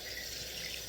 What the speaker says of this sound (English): the sound of water running drives me crazy